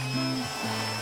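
A vacuum cleaner sucks up Lego bricks, giving a steady, close motor whine with a slight shift in pitch partway through, and no voices.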